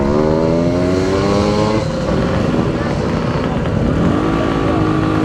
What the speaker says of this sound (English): riding this cheap and very cheerful little TS185 Suzuki